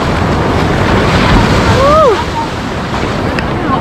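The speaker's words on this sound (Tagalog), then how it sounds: "Anong alon, no?" Loud, continuous surf and wind noise on Dingalan beach in Aurora, waves crashing close by with heavy microphone buffeting; a brief voice cry rises over the roar.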